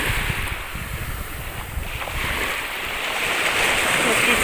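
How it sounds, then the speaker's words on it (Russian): Sea waves washing onto the shore on a clear, slightly cool day, with wind buffeting the microphone; a steady broadband rush that swells a little louder toward the end, no voices. "Какое замечательное сегодня море."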